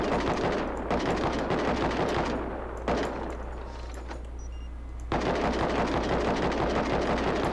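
A remote-controlled turret in Rust fires long rapid bursts of automatic gunfire, loud and close, with a brief pause between bursts and no speech.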